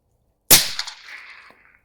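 One sharp rifle shot from a 300 Blackout firing supersonic rounds at 36-inch steel at long range on an outdoor range, a loud close crack followed by a rolling echo that fades over about a second.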